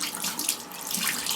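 Water runs steadily from a bathroom sink tap, a close, even hiss and splash with no voices.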